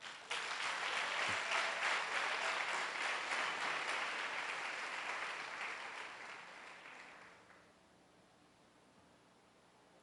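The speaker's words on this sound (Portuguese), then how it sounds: "nós vamos aplaudir o Senhor Jesus" Audience applause at a Portuguese-language church gathering, loud and dense clapping from a crowd that holds steady for several seconds, then thins and fades out over the last few seconds, leaving quiet room tone.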